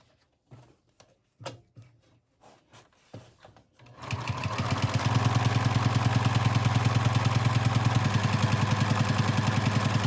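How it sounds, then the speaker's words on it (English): Sewing machine stitching around a hat brim, starting after a few scattered clicks and handling noises, then running steadily with a fast, loud, even stitching rhythm close by. "just sew around that whole thing. It's pretty satisfying to watch."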